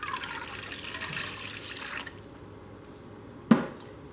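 Warm water runs from a kitchen tap for about two seconds, a steady close hiss that then cuts off, followed by a quiet pause and a single sharp knock near the end.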